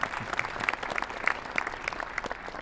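Theatre audience applauding at a film preview screening in Orléans, a brief, steady patter of many hands clapping at moderate distance, fairly soft and continuous.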